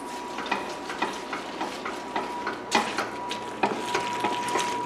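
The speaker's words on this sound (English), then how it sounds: "I'm now going to add in my bacon." Bacon stirred into a pan of jalapeño mac and cheese gives off steady sizzling and frying with soft scraping stir sounds and a few sharper clatters, close and continuous.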